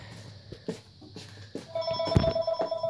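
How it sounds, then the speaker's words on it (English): A house telephone rings with a steady electronic tone that starts partway through, over scattered household knocks and movement close by. "The house phone's ringing."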